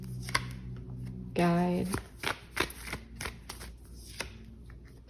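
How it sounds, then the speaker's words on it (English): Tarot cards shuffled and drawn from a deck: a brief rippling riffle, then several soft separate slaps and flicks of cards, close, with a quiet voice speaking in between. "Let's pull a few more cards."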